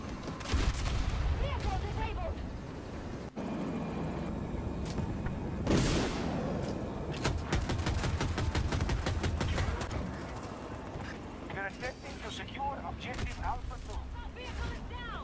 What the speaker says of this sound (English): now I'm just dropping the bombs on it